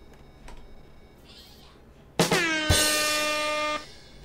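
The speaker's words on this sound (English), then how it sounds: "I didn't accidentally mean to do the rimshot air horn, but we got it." A loud rimshot air horn sound effect bursts in abruptly, a sustained blaring honk lasting over a second before cutting off, preceded by quieter background noise during a puzzle fighting game.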